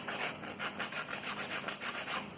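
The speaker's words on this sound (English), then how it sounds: "Sandpaper. This is a sand block." A sanding block with sandpaper rubs against small wooden matchstick pieces in quick, rhythmic back-and-forth strokes, a close, steady rasping scratch with no talking.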